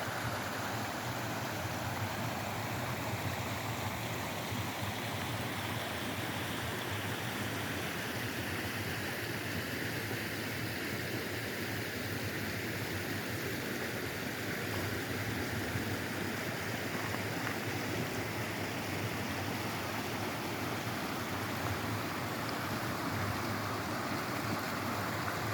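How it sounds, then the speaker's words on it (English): Small crystal-clear fell stream in the Great Langdale valley near Elterwater, Lake District, burbling over rocks in a steady close rush of water, constant and unbroken for the whole stretch with no voices. "the sound of the crystal clear water burbling over the rocks"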